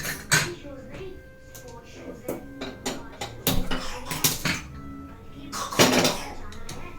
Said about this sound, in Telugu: కుక్కర్ మూత క్లోజ్ చేస్తున్నాను